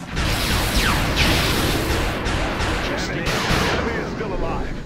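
Overwatch shots from several soldiers in XCOM: Enemy Within crackle in a loud, continuous volley of overlapping gunfire with sharp bursts, while a voice talks over the barrage.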